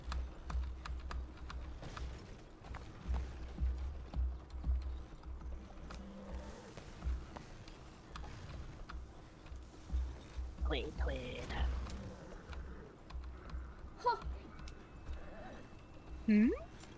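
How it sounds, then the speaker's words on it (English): Horse hooves clip-clop in a video game, a steady, moderately near trot over a constant low rumble, with a brief whinny partway through and soft background noise. "Friendly horse."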